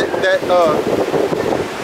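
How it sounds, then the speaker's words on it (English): Desert wind gusts buffet the microphone in uneven rushes, heard close and loud, while someone talks over it. "It's windy as hell out here, man."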